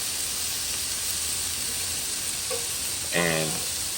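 Chicken, beef and shrimp sizzle on a Blackstone griddle, a close, continuous hissing fry that runs steadily, with a brief burst of a voice near the end.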